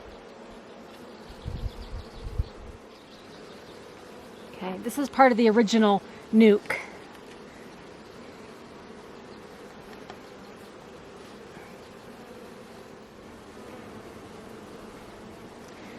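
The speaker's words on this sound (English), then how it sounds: "Busy bees." A steady low buzz of many honey bees at a hive runs throughout, with someone speaking briefly partway through.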